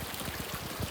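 Water runs steadily along an irrigation channel beside a hiking trail at the foot of Mount Ungaran in Java, a close, continuous trickling rush with no voices.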